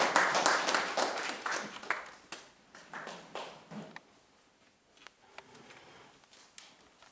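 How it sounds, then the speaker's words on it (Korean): An audience at an anniversary ceremony applauds, loud and full at first, then thinning into scattered individual claps that fade away toward the end. "박수로 환영해 주시기 바랍니다"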